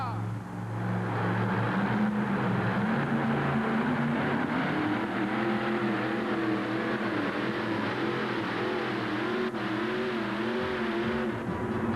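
A four-wheel drive modified racing truck roars at full throttle during a pulling event in Hampton, a loud sustained engine drone with shifting pitch, overlaid by an excited announcer's commentary.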